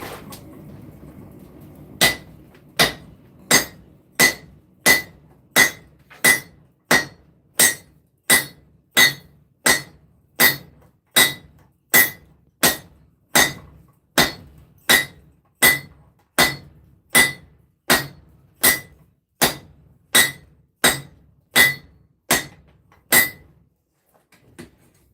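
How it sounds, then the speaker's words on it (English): A hammer forges a hot knife blade on an anvil, sharp ringing metallic strikes at a steady, even pace, about thirty blows in a row, loud and close after a brief quiet start. "Let's start forging it down some more."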